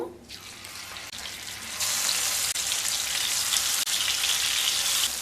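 Katla fish pieces frying in hot mustard oil in a pan, a loud, dense, continuous sizzle that swells after a moment and holds steady, with a few faint clicks.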